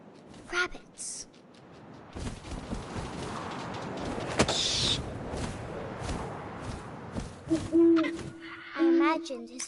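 An owl hoots in the game What Remains of Edith Finch, a short hooting call rising over soft wind and rustling ambience, with a few brief clicks and thumps around it.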